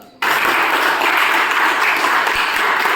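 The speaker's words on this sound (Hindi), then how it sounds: "एक बार सर के लिए जोरदार तालियां बजा" A school class gives a teacher a round of applause during an inspection visit; after a short quiet moment, brisk dense clapping from many students starts abruptly and continues steadily at fairly close range.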